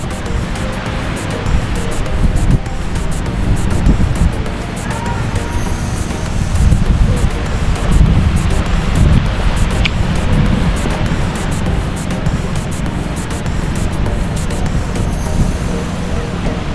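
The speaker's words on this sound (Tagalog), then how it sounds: "ito po tayo sa tabing dagat" Steady broadband roar of sea waves washing onto San Fabian Beach, with gusty wind buffeting the microphone and a faint rumble of distant traffic.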